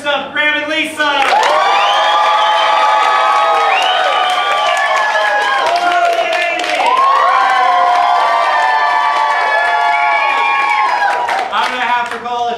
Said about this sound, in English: Applause for your favorite pair.